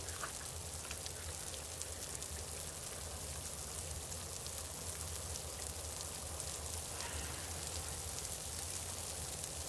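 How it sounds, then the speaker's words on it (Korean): Steady rain falls throughout, an even, dense patter of drops hissing on surfaces with no pauses and no voices. "비가 온다."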